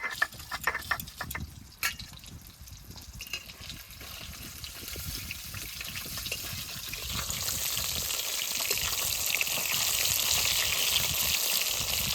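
River fish frying in a pan of oil gives a continuous crackling sizzle that grows louder and denser over the second half, close up, with faint clinks early on.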